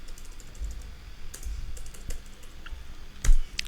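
A computer keyboard clicks in a few scattered keystrokes while spaces are deleted from a pasted password, close and fairly crisp against a quiet background, with no speech.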